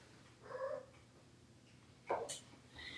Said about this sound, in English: So there's a little cat right here.